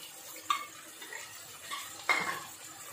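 Chicken for morog pulao is stirred in a pan with ground almond, poppy seed and mace pastes: a spoon scrapes and knocks against the pan at irregular intervals over a soft, steady sizzle.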